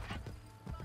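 A horse clip-clopping in Assassin's Creed Brotherhood, a few quick, close hoofbeats in an uneven rhythm, heard alone.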